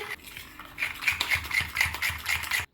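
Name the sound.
stirring juice into flour to dissolve it, for venison stew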